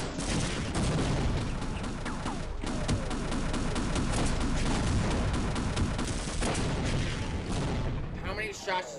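Gunfire in a Half-Life combat scene with a tank: rapid repeated shots pound out continuously over heavy rumbling battle noise, loud and close, with people talking at points.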